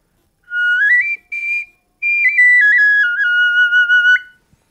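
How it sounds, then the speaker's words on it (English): A bone whistle of the Jemez Pueblo kind, used to call in birds, blown in three clear, piercing phrases with sliding and stepped pitch, loud and close with no talking. "And you can make whistles like this to call in birds"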